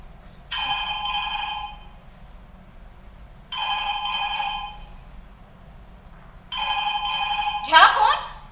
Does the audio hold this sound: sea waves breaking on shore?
no